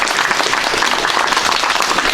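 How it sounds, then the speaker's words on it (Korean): An audience applauds the Appenzeller vocal ensemble at a memorial ceremony, a dense, steady wash of clapping that fills the whole stretch without a break. "아펜젤라 중창단 박수 한번 크게 보내주세요."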